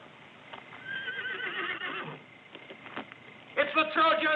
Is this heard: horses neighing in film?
yes